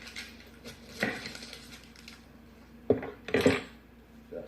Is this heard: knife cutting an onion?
yes